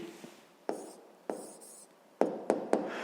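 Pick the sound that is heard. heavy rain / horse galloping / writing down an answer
writing down an answer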